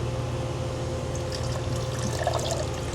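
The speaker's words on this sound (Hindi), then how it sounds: "पानी कितना स्लो आ रहा है यहाँ पे यार" Hot tap water runs in a slow, steady trickle while a cup is washed, a close, continuous liquid hiss and patter with no talking.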